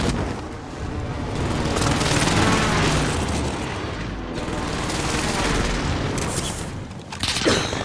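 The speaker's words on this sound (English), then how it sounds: "Enemy precision airstrike." Precision airstrike explosions in Call of Duty: Modern Warfare roll on continuously as heavy rumbling blasts mixed with crackling gunfire, loud and sustained, swelling and easing over several seconds.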